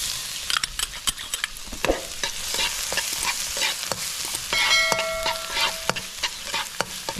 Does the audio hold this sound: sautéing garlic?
yes